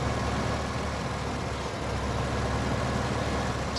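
An old truck engine idles and runs with a steady low rumble in a farming video game, heard alone and fairly loud without a break.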